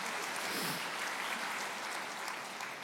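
Congregation applauding together at an evening church prayer service, a steady dense wash of clapping that fills the room from start to finish with no talk over it.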